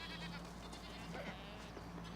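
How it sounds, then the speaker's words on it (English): Goats bleat faintly in the Red Dead Redemption video game, soft and distant in a quiet ambient background, with a hint of voice present. "There's so many goats also."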